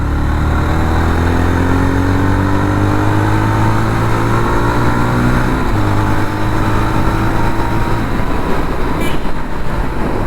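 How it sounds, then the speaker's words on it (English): A brand new Jawa 42 FJ 350 motorcycle accelerates hard under open throttle, its engine droning loudly and climbing in pitch, dropping briefly at a gear change before rising again; no talking. "Pulling from 430, opening the throttle."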